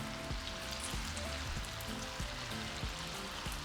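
Garlic sizzling steadily in a hot pan for shrimp al mojo de ajo, a continuous close crackle with scattered pops, no talking.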